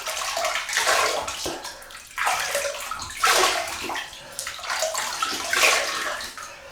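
Water splashes and sloshes in bursts as hands cup it onto a face before shaving, each scoop making a close, bright splash that trails into dripping.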